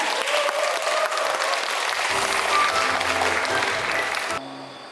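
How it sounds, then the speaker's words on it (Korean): Audience applauding the poet Shin Dal-ja at a talk concert, steady dense clapping that fills the room and holds for several seconds before music enters and the clapping fades near the end. "큰 박수 부탁드립니다"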